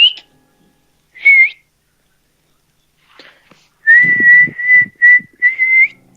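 Someone whistles to call a puppy: a few short, high, steady whistle notes, first separate bursts and then a longer run of sustained tones, with a little rustling underneath and quiet gaps in between.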